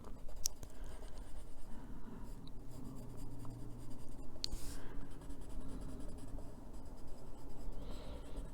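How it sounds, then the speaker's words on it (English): Inktense pencils colour leaves on paper, a quiet, continuous scratchy scribbling of pencil lead against paper, close-up and faint, with a few sharper taps and strokes and no talk. "I'll just color on the paper here with these."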